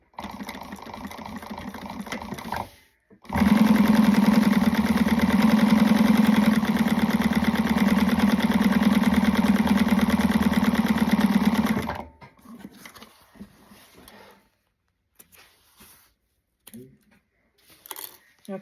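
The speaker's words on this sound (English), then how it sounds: "you're going to go ahead and sew the other line just like you did the first one" A sewing machine runs continuously for about nine seconds, stitching a line on a fabric wristlet with a steady close mechanical whir, bracketed by a short earlier burst and quieter handling noise and speech afterward.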